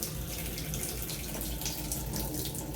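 Water runs from a hotel accessible shower's handheld wand, a steady close hiss of spray and splashing that continues without a break.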